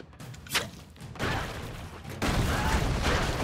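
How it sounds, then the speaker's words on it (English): Explosions in the video game Broforce: a sharp blast followed by bursts of rumbling booms and crackling debris that swell louder toward the end, with no talking over them. "Oh my god, explosions."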